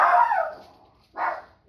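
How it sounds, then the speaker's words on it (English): Two dog barks, a loud one followed by a shorter, slightly softer one after a pause, heard alone indoors with no talk. "They're barking at nobody."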